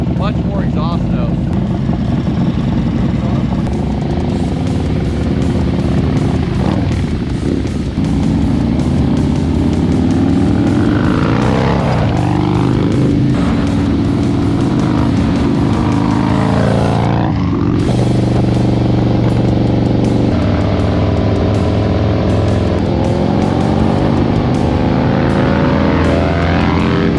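A cammed and tuned 2024 Harley-Davidson Road Glide engine rumbles continuously up close, revving up and down with a throaty exhaust roar over a quiet drivetrain.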